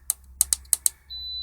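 Several sharp clicks of a button on a 180W electronic DC load meter, close and crisp, followed by a thin steady high beep.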